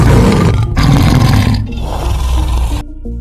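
A lion roars loudly and close up in a deep, rumbling, sustained burst lasting nearly three seconds, which breaks off abruptly at the end.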